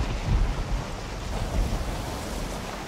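An ocean storm in the Valheim video game roars as a continuous low rumble of wind and crashing surf around a boat at sea, swelling and easing in gusts with no talking.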